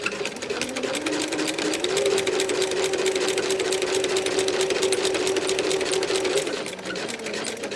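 A sewing machine with a walking foot stitches through the layers of a tulip potholder, a loud steady whirring run of rapid needle strokes that holds for several seconds before slowing at the end.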